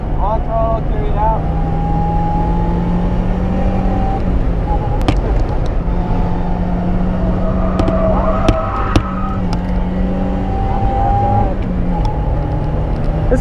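A Mazda Miata engine on a race track drones loud and close, its pitch sliding down under braking and then climbing again as the car accelerates back on throttle, one continuous engine note throughout.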